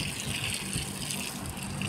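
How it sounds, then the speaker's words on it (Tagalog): Water gushing steadily from a hose or container onto the soil of a potted plant on a rooftop garden, a continuous close splashing pour with no talking. "Damihan natin ng tubig dito."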